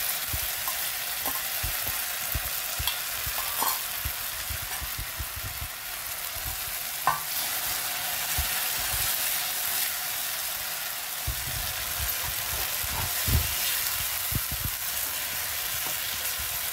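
Steady sizzling of spices frying in hot oil for tempering a wild greens dish, a loud continuous crackle with occasional sharp pops and faint stirring scrapes, close up with no speech.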